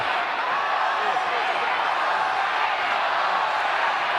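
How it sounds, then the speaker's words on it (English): A huge wrestling arena crowd roars in a steady, unbroken wall of noise as fans chant for Hulk Hogan at WrestleMania 8, dense and continuous with no break throughout. "Chant going out from this tremendous crowd for the Hulkster"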